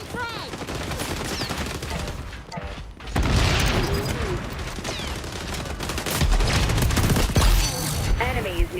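Frag grenade blast in XDefiant, buried in dense, continuous gunfire and battle noise that stays loud throughout, with game voices calling out over the din.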